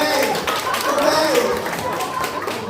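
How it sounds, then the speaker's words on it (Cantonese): Fans clap for Ko Fei at a fan meeting, with scattered hand claps spread through the room and chatter running underneath for a few seconds. "俾啲掌聲高飛啊"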